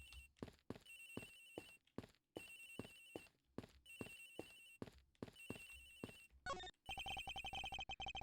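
A cell phone plays a lullaby ringtone in Ace Attorney Investigations, repeating melodic phrases in bursts with short gaps, then shifting to a denser trilling ring near the end, fairly faint and with no talking.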